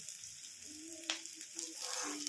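Eggplant and onion frying in a pan hiss in a soft, steady sizzle, with a faint scrape of a spatula and light clinks over the top; no talking.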